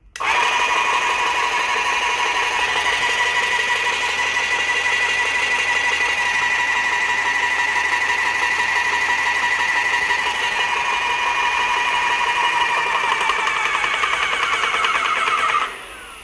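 A Graco airless paint sprayer pump runs steadily for about fifteen seconds while building pressure, a continuous mechanical whine and hum with no talking, cutting off near the end.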